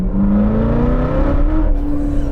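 A 2019 Chevrolet Corvette ZR1 with a 755-horsepower engine revs sharply as the driver rolls down into second gear, its loud, rising blip sitting close and steady for about two seconds with no voices over it.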